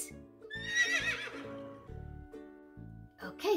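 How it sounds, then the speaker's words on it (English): A horse neighs in a long, wavering whinny, loud and close, on a farm, while a voice talks before and after it. "Oh, it's a horse."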